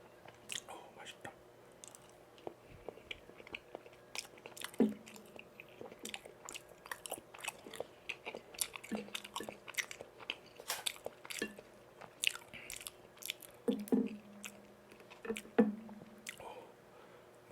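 Close, soft chewing of chewy Korean tteokbokki rice cakes and pan-fried jeon, with moist squishes and occasional crunchy bites repeating steadily in a quiet room.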